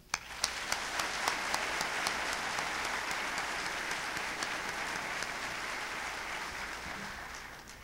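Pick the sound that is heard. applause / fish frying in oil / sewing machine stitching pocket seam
applause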